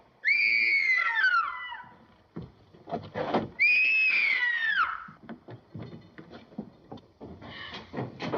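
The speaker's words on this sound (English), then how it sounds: "What made you scream?" A woman screams in fright aboard a ship in a 1941 detective drama, letting out two long, high, wavering shrieks that trail downward, followed by thumps, clatter and scattered movement noise.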